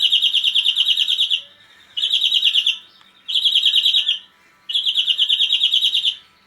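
A greenfinch sings in four bright, rapid trilling bursts separated by short pauses, close and clear against a quiet background with no talking.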